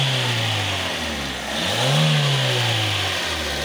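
Fiat Grande Punto 1.2 8V petrol engine idling close by, then revved once, the pitch dipping and climbing to a peak before falling back to a steady idle.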